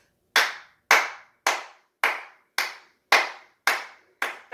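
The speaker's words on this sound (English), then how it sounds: "then we're going to count 8 claps" Eight hand claps in an even, steady rhythm, each crisp and close, with short silences between them and no talking.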